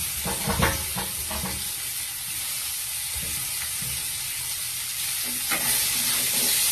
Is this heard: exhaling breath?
no